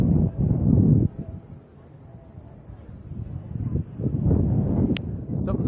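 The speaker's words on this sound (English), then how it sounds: "Sorry if the wind's a little much." Wind buffeting a microphone at a high trapeze venue, low gusty rumbles rising and easing under someone speaking throughout.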